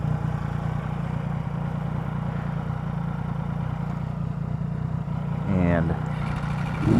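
A Yamaha XSR three-cylinder motorcycle engine idles steadily up close, then blips into one quick rising rev near the end before settling back.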